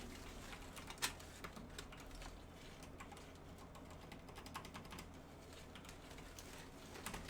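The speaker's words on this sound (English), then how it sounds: "God, I'm not typing well today." Fingers tap away at a computer keyboard in quick, uneven bursts of soft clicks, fairly faint against a low background hiss.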